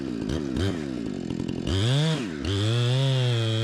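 A Husqvarna Rancher 460 chainsaw cutting while felling a tree, its engine revving up and bogging down in the cut with loud, close, continuous whining pitch swings and no talking.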